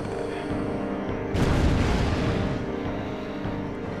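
Lulu's black magic Fire spell in Final Fantasy X erupts in a loud, sudden whooshing burst partway through, then a rumbling roar that fades over a sustained game background tone.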